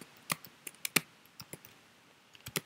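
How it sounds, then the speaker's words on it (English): Typing on a computer keyboard while entering an HTML document, a sparse, irregular run of crisp, close key clicks with short pauses between bursts. "I'll type in all the other stuff it should have"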